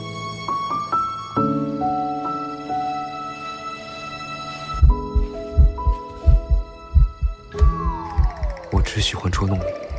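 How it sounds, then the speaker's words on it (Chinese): A rapid, steady heartbeat thumps in a regular double-pulse rhythm through the second half, loud and close, laid over sustained musical tones in a romantic scene of a Chinese costume drama. "你心跳得好快哦。"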